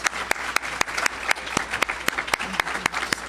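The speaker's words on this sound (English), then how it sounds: "let's give Hood Research a round of applause" A forum audience gives a round of applause: steady, moderately loud clapping with sharp individual claps standing out in an irregular rhythm, continuous for a few seconds.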